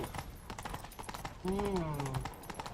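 Rhythmic clip-clop of horse hooves galloping in The Witcher 3: Wild Hunt runs steadily throughout, with a voice joining partway and speaking over the galloping.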